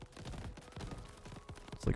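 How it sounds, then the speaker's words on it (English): Fireworks burst in the video game Crab Champions as a quick, irregular string of crackling pops and bangs with a louder burst near the end, over steady game background noise. "There's so many fireworks."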